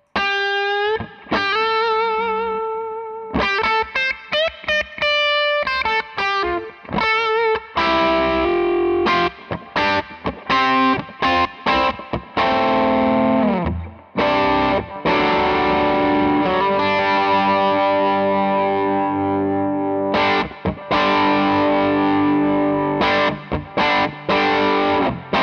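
Distorted electric guitar through a Wampler Ego compressor pedal plays chords and single-note riffs with tight, even sustain, strummed phrases separated by sharp muted stops.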